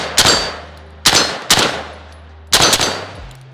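Four loud, sharp gunshots from a 300 Blackout rifle, fired close by in an uneven rhythm with a short gap after the first, each followed by a brief ringing decay.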